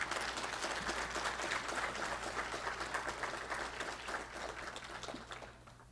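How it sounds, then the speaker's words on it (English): Sustained audience applause at an internal medicine graduation ceremony, dense clapping from a large seated crowd that holds steady and then begins to thin out toward the end. "Now applause."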